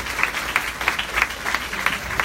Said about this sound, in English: So I want to give you guys a round of applause.